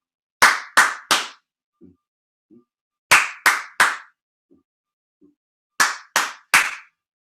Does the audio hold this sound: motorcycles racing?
no